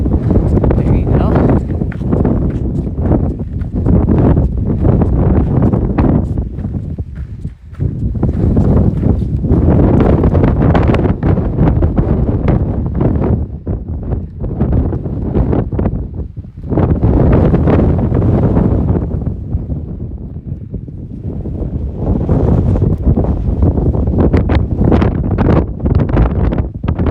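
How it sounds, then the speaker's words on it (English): Strong wind blasting a microphone on an exposed bluff during a trek, a loud, roaring buffeting in long surges with brief lulls, nearly continuous over the whole span. "I think we're gonna get blasted by the wind."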